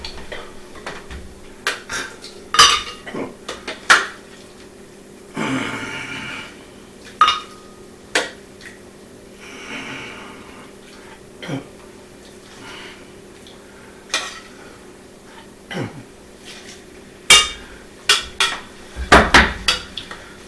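A saucepan and metal utensils clank and tap on a stovetop while making cream of asparagus soup, irregular sharp knocks and scrapes in bursts with quiet gaps, close by and with no talking.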